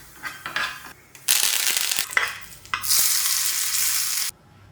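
A tadka of mustard seeds, urad dal and curry leaves in a tablespoon of hot oil crackles and sizzles in loud bursts, with spluttering pops and brief stirring between bright, hissing surges.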